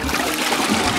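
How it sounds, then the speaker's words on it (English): A toilet flushing with a continuous rush of running, trickling water, close and fairly loud for about a second with no talking. "I got the flush now!"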